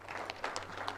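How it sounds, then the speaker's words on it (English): An audience at a Kenya National Examinations Council ceremony claps in a brief, faint, steady burst of applause. "Can we give him another round of applause?"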